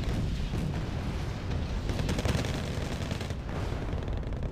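Explosions and rapid gunfire from a bombing run in the Wargame Red Dragon game, a dense, continuous rumbling barrage of blasts and shots with no talking.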